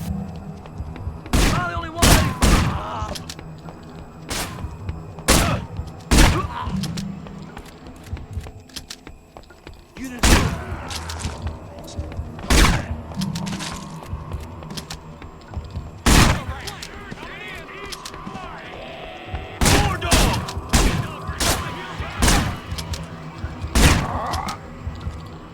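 Enemy shotgun blasts in the video game Manhunt, loud, sharp bangs scattered irregularly, sometimes in quick pairs or clusters, over low game ambience.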